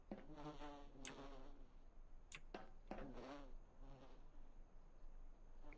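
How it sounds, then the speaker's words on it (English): Bees buzz in Voices of the Void as a faint, steady insect drone, with a few louder passes as individual bees fly close by. "I'm curious why I'm hearing all these bees."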